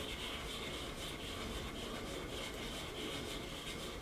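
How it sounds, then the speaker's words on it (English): A domed metal cuff blank is rubbed flat in figure-eight strokes on sandpaper, giving a continuous soft, even scraping hiss at low volume with no talk. "So I'm going to do a figure 8 on my sandpaper."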